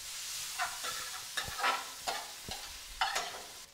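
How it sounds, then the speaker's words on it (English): Bacon rendering in a pan, a quiet crackling fry with several sharp taps and scrapes of stirring at irregular intervals, no voices. "I start off by rendering the bacon in the pan."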